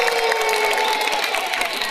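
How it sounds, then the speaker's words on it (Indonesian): Dense audience applause with some cheering at a badminton club gathering, steady and fairly loud across the whole stretch with no talk on top. "Tepuk tangan untuk Adit."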